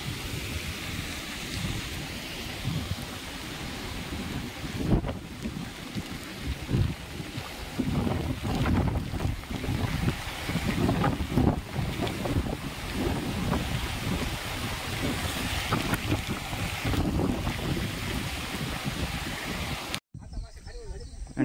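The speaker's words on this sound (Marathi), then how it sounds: "गोदावरीमध्ये पाणी पहा किती वाहत आहे" Heavy rushing water of the flooded Godavari river during monsoon rains, a steady loud broadband roar with wind buffeting the microphone throughout, cutting off abruptly near the end.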